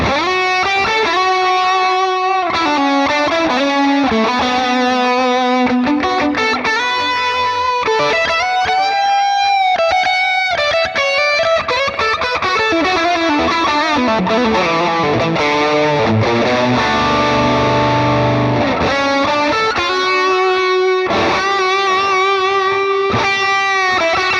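Electric guitar through a distortion pedal into a Valeton GP-200 plays chords and lead lines continuously, loud and saturated with a gritty, sustained crunch and delay echo.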